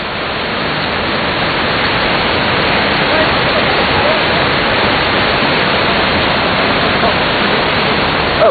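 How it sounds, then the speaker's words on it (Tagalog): Majayjay Falls pours in a dense, unbroken roar of falling water, loud and close, holding at a constant level for the whole stretch. "nandito kami sa Mahayhay Falls"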